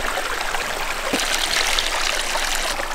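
A waterfall in Swedish wilderness rushes in a loud, steady broadband roar, with one brief knock near the middle and no talk over it.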